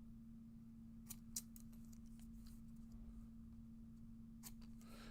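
Scissors trimming a handmade card, faint snipping with a few small crisp cuts spread over a steady electrical hum, quiet and close, no talk.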